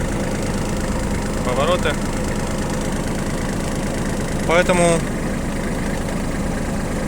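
Kubota GL281 compact four-wheel-drive mini tractor idling, a steady low diesel chug running throughout, close and fairly loud, with someone talking briefly over it twice.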